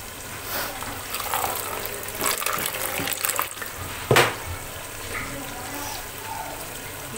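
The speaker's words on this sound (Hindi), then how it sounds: "मैं लहसुन अदरक का पेस्ट ऐड कर रही हूँ" Garlic ginger paste and water go into a hot frying pan, giving a steady hiss and bubbling sizzle with a sharp splash near the middle, close and fairly loud.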